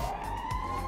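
An ambulance siren in the GTA Online video game wails as a steady, piercing electronic tone over a low rumble of traffic, heard briefly at moderate volume.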